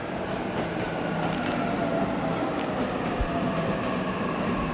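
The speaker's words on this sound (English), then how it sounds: "Train's already here." Video game train in 13 Sentinels: Aegis Rim pulling into a station, a steady low rumbling roar of rolling carriages held at even loudness with a faint high whine above, no voices.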